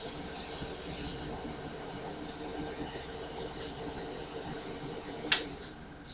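An airbrush paint booth's extraction fan runs with a steady broad hiss and whoosh, continuous and fairly even, with a brief sharp knock near the end and no talking.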